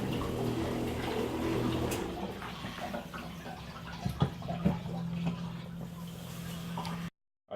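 Water runs steadily from a truck camper faucet as antifreeze is drawn in for winterizing, with a low hum, a few splashy gurgles near the end before it cuts to silence.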